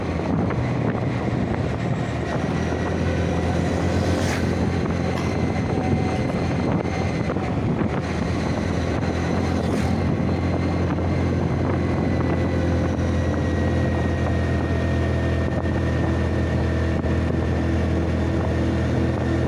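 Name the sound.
vehicle driving fast on a road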